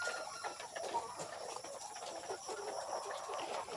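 Chickens settling into their new cage, with soft clucks and coos over a steady hum of background noise.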